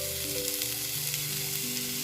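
Tomato pieces frying in butter in a pan, a steady close sizzle with a faint low hum beneath, continuous and without talk.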